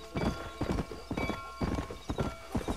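Horse hooves clip-clop in a steady, repeating rhythm in the Red Dead Redemption video game, with a whinny mixed in. The hoofbeats are close and clear, with no talk over them.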